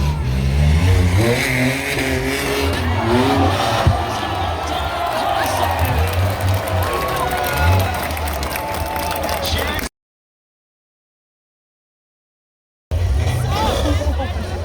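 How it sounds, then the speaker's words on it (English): An off-road race vehicle spinning all four tires for traction at an off-road race event, engine revving and wavering near and loud over a crowd, with a commentator talking; the sound cuts out briefly before resuming. "Four-wheel tire fryer there. It's Jackson trying to lay down some more traction."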